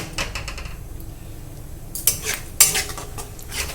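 Masala paste with a splash of water being sautéed in a pan for a vegetarian dish, heard as a few sharp metal spoon clinks and scrapes over a faint, low background hiss.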